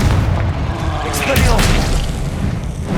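A Confringo fire spell explosion erupts in Hogwarts Legacy combat, a loud sustained booming roar with crackling bursts that continues for several seconds amid game battle noise.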